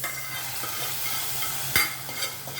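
Spice tempering for bottle gourd moong dal frying in hot oil, a continuous close sizzle broken by one sharp clatter of a spoon and a few softer stirring taps.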